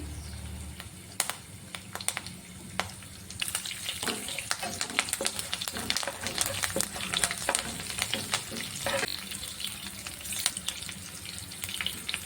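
Green chillies and curry leaves crackle in hot oil over a high flame, a loud busy sizzle with sharp pops and spatters running throughout, the start of a cauliflower fried rice.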